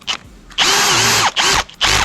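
A Bosch GSR 18V-50 heavy-duty cordless drill drives in three loud, close bursts with a rising whine, separated by short pauses and a brief spin-up at the start.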